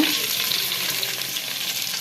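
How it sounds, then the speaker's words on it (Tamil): Steady, hissing sizzle of small and large onions frying in hot oil in a pan with curry leaves, continuous and close, with no talking. "வெங்காயத்தை நல்லா வதக்கிக்கிடுங்க"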